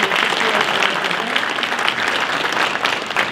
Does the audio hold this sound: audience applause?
yes